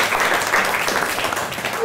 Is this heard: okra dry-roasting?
no